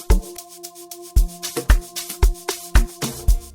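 A sustained Toxic Biohazard synth pad chord sits under punchy amapiano drums, with thumping kicks and snappy hits in a steady, driving rhythm.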